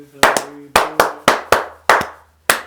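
Hands clap sharply, about seven times in a loose, uneven rhythm. Each clap is close and loud with a short decay, some coming in quick pairs, with no talk over them.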